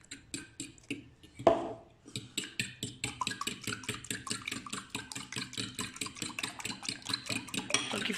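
Milk being stirred into a batter or mixture in a bowl, a steady run of quick rhythmic clinks and scrapes from close by, alone with no talk.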